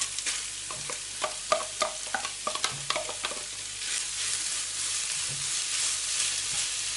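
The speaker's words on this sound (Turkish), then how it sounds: "Robottan geçirdiğim bir tane kuru soğanımı ekliyorum. Ve 1-2 dakika kavuracağım." Chopped onion sizzling in hot oil with scattered stirring scrapes and clicks early on, then a steady frying hiss; no voices.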